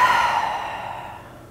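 One slow, airy exhale from a seated yoga practitioner, close and soft, fading gradually into quiet.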